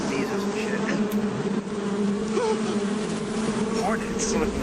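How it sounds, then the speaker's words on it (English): Hornets in the video game Metal Gear Solid 3 make a continuous, dense buzz that holds steady and fairly loud throughout, with faint wavering tones running through it. "Hornets."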